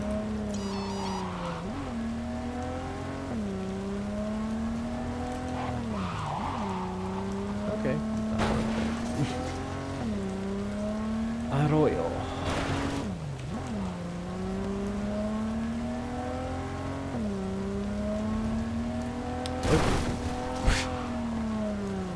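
A solid car from Cyberpunk 2077 drones along through traffic, engine pitch swinging with repeated acceleration and gear changes, punctuated by sharp crash thuds as it rams other vehicles, with occasional talking over it.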